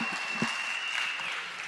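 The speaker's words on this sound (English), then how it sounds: "can we have a big round of applause for contestant number 2" An audience claps for contestant number 2 at a Purim event, a soft, steady patter of applause heard from a distance, with a thin whistle-like tone drifting over it.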